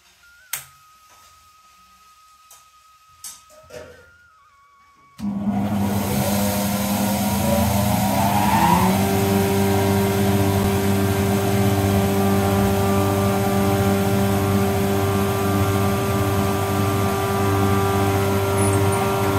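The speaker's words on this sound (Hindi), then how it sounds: "मंडुआ यानी कोदा की पिसाई।" A flour mill grinding finger millet (ragi) in Uttarakhand starts up after a few quiet clicks and knocks. Its motor and grinding stones then settle into a loud, steady, continuous roaring hum that lasts to the end.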